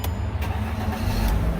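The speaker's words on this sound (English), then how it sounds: "Let me start the car now." A Mercedes C300 with a water-damaged front SAM module starts up, its engine settling into a steady low rumble heard close and alone over a short stretch.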